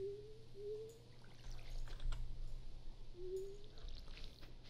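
Watering crops with a watering can in the farming game Stardew Valley: a short trickling pour of water with light splashing, over steady low background hum and faint bird chirps, no talk.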